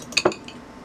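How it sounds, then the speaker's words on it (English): Mexican fruit salad with chamoy being stirred in a bowl, heard as a couple of quick, bright clinks of a utensil against the bowl, close and brief. "just give it a stir"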